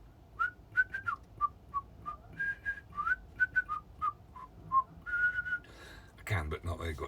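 A person whistles a wandering, tuneful melody of short rising and falling notes for several seconds, close and fairly soft, before a brief rustling noise ends it.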